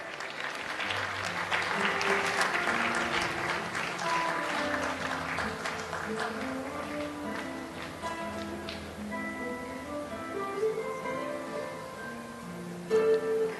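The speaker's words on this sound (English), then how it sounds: "Give your round of applause." An audience at a palliative care workshop gives a round of applause, clapping densest early and then tapering, while musical tones play underneath and a voice briefly cuts in at the end.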